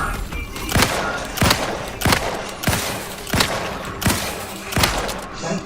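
Rhythmic gunfire in The Outer Worlds 2, a sharp heavy shot repeating roughly every two-thirds of a second, nine or so evenly spaced blasts over a faint backdrop, loud and near.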